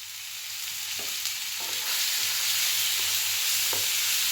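Fried potatoes are stirred into a frying masala in a pan, giving a rising, steady sizzle broken by soft scraping strokes of the spoon at a slow, irregular pace.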